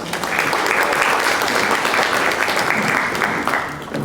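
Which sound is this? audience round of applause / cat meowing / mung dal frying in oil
audience round of applause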